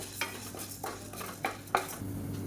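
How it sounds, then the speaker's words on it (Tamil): Chana dal is dry-roasted in a pan and stirred with a spatula, making five quiet scraping strokes at a fairly even rhythm over a faint background hiss. No one speaks. "இப்போ இதையும் சேர்த்து நல்லா வறுத்துக்கலாம்"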